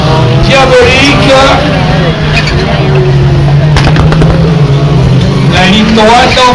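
Rallycross supercars race on a slippery, ice-like track, their engines loud and close throughout, with a steady roar that rises and falls as they rev and pass, under an excited commentator's voice.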